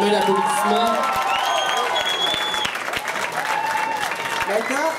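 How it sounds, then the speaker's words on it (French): An audience at a French-language high-school talent show applauds the two hosts, a loud, dense wash of clapping and crowd noise that carries steadily through the whole stretch, with scattered cheering and voices mixed in. "Je pense qu'ils méritent une bonne main d'applaudissement."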